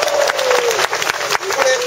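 An audience at a stage song festival claps in steady, dense applause that fills the room, while a voice speaks over it.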